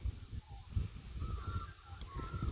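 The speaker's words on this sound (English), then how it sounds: "You can hear the birds over in the trees." Birds call from trees in rural native bush at Rangiwahia, giving faint honking, goose-like cries over a low outdoor rumble.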